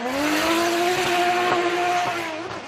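Lexus IS 500 F Sports Performance Drift car at a Formula Drift Japan event, engine howling steadily at high revs with broadband tire squeal throughout, loud and close, no talk.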